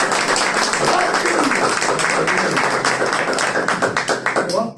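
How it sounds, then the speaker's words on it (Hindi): Church congregation claps for God during a Hindi-Urdu sermon, a dense, continuous wash of many hands clapping at steady loudness for nearly five seconds, thinning slightly at the end. "तालियां उस खुदा के लिए।"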